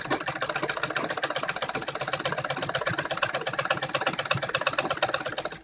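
A sewing machine stitches a seam on a kurti, running close and steady with a fast, even rattling rhythm of the needle that continues without a break for several seconds and has no talk over it.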